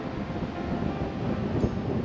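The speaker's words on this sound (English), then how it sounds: "It's awful windy." Strong wind roars steadily against the microphone, a dense low rumble with no pauses and no voices.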